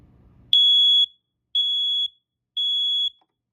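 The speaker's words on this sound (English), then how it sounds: "Today we're going to do the smoke alarm testing." A household smoke alarm being tested blares three loud, piercing beeps of about half a second each, evenly spaced, after a short low rumble of handling noise.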